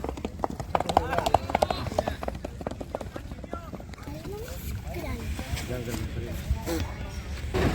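A horse's hooves clop steadily nearby amid a busy outdoor crowd at an endurance riding vet check in Kutch, India, with people talking over the rhythmic footfalls.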